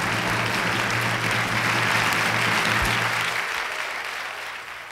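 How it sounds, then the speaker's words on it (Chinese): A studio audience at a variety show claps for a model in a sustained burst of applause, loud and full at first, then gradually tapering off toward the end, over a low steady background hum. "好，给我们这位模特的掌声鼓励鼓励"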